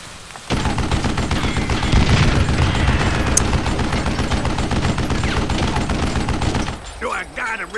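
Rapid sustained gunfire in Call of Juarez: Gunslinger, a loud dense rattle of shots running for several seconds before cutting off, followed by a voice.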